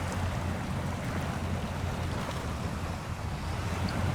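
A truck in SnowRunner ploughs through a big water hole, making a steady, dense wash of splashing and rushing water that holds evenly throughout with no voices.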